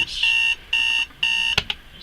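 An alarm clock beeps loudly and close in three regular bursts, then a sharp click is heard as the button is pressed and it stops.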